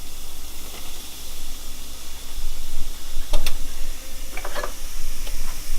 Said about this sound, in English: it's almost like a boil, sizzle.